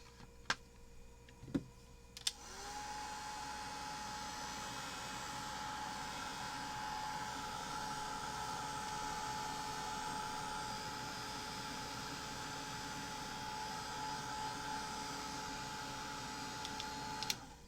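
A hair dryer blows steadily on Brusho watercolor paintings after a few clicks, its even whirring hum running loud and close for most of the stretch with no talking.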